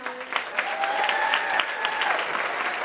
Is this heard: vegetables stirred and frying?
no